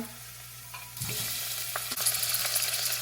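Curry leaves drop into hot oil and the sizzling jumps up sharply, then keeps crackling steadily close by.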